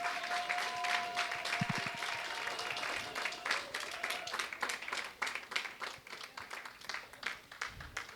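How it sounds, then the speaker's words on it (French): Guests applaud the couple at a traditional Congolese customary wedding, a fairly quiet, spread-out round of clapping with individual claps audible; it grows sparser and more irregular over eight seconds, with a faint tone and low murmur behind. "Est-ce qu'on peut applaudir pour le couple?"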